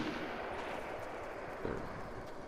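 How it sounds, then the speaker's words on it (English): Gunfire from a shooter video game rumbles as a dense, muffled barrage under steady game noise, fairly faint and distant, with one slightly sharper report near the end. "I see the people there shooting"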